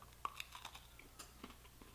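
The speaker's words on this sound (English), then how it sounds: "Can you hear that crunch?" Close, crisp crunching of someone chewing homemade Italian sandwich bread (pane in cassetta), a few quiet bites and chews in a row with no talking.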